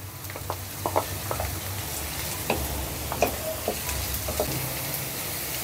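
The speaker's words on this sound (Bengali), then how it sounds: "এবার এগুলো আমি পেঁয়াজের সাথে ভেজে নেব।" Nuts, raisins and onion sizzle steadily in a hot pan, with scattered clicks and scrapes of stirring over a constant frying hiss.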